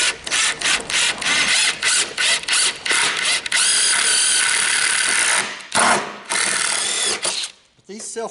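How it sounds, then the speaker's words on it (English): An impact driver sinks a self-tapping screw into a metal trailer while a tailgate is built, giving loud rapid hammering bursts broken by short pauses, ending in a brief quiet stretch. "I always use a self-tapping screw and an impact for my initial hole"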